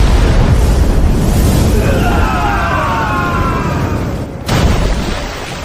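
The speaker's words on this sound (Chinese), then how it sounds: "各位，看烟花吧！" Fireworks burst overhead in a booming volley, one rocket whistling as it climbs before the rumbling explosions fade and a sharp final crack lands near the end.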